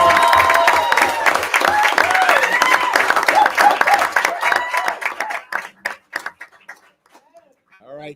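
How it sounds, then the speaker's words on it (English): Audience applause and cheering at a school board meeting greet a man named Kevin, the clapping loud and dense at first, then thinning into scattered claps and fading out by the end. "Can I have a huge round of applause for Kevin Medlin."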